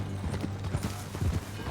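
Horse hooves clip-clop at a steady walking pace in Red Dead Redemption 2, a few soft rhythmic thuds over a low hum of game ambience.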